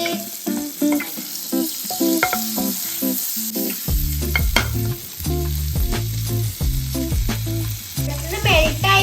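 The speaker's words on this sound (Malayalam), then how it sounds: "ഇനി നമുക്കിത് പൊരിച്ചെടുക്കാം ചൂടായിട്ടുണ്ട് നമ്മൾ ബട്ടർ ഇട്ടിട്ടുണ്ട്" Spring rolls frying in hot butter in a pan: a steady bright sizzle throughout, broken by repeated clattering knocks and scrapes as the rolls are moved and turned.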